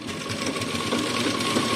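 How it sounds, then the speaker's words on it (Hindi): A sewing machine runs a straight line of stitching down saree pleats, a steady, close, rapid mechanical whir that stays even throughout with no voices. "जहां तक हमने प्लेटें डाली हैं वहां तक सीधी सिलाई एक बार हम लगा देंगे।"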